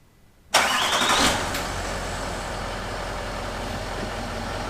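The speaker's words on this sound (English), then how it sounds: "it seems I've got to start the Range Rover up to get it to turn the heated mirrors on" A Range Rover L322 starts up with a short, loud crank and a whining catch, then settles straight into a steady, even idle heard close by.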